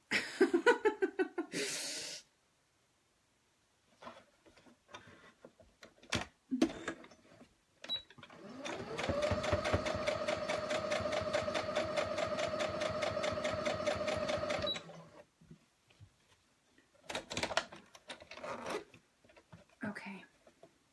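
A sewing machine stitches quilt binding in a steady, continuous run of about six seconds, close and fairly loud, with short bursts of stitching and handling noises before and after and some talk around it.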